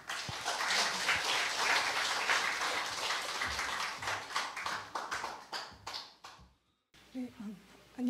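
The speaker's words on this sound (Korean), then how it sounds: "큰 환영의 박수 부탁드립니다." In a lecture hall at a philosophy forum, the audience claps to welcome a visiting professor to the podium. The clapping is dense and moderately loud, then thins into scattered claps and stops before someone starts to speak.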